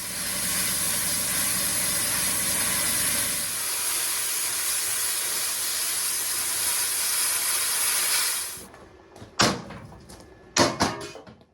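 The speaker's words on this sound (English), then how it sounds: "Let's fire up the plasma cutter." A plasma cutter slices through steel plate during welding repairs and modifications to a log splitter, giving a loud, steady broadband hiss for about eight seconds that then cuts out, leaving a few sharp clanks and short bursts.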